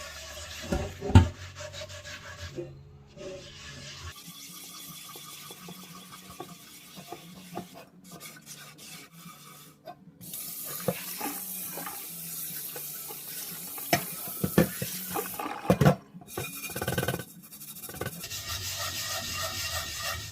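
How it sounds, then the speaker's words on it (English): A sponge rubs and scrubs across a cast iron pan with running water, light swishing strokes under a tap's steady flow, close and fairly quiet, pausing briefly now and then. "I'm like putting no pressure on. Just letting the sponge roll across the top."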